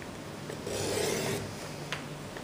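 Paper trimmer cutting a thin strip off craft card, a short close, faint rasping slide lasting under a second, with a soft tap afterward in a quiet room.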